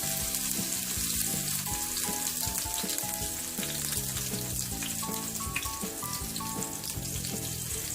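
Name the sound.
green chillies frying in hot oil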